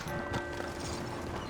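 Horse hooves clip-clopping in the video game Red Dead Redemption 2, a quick faint patter of steps with some tack rattle over a brief low moment.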